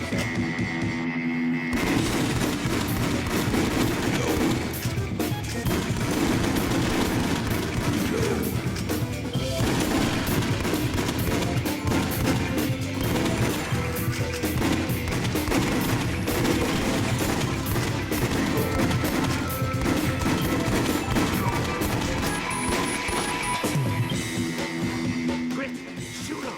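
Rapid, sustained gunfire erupts while shooting enemies in the video game House of the Dead Overkill, with dense bursts, crashes and clattering impacts running almost nonstop, and occasional voices mixed in.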